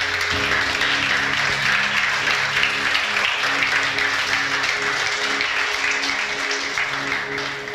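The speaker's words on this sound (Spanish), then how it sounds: "Denle un aplauso a Dios de alabanza." Church congregation applauds in praise of God, an even, continuous roar of many hands clapping that holds steady throughout, with faint sustained instrumental tones underneath.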